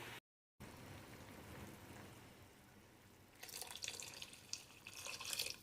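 Water is poured into a pot of horse gram rasam, a soft splashing trickle that starts after a quiet stretch and grows louder toward the end, with no talking.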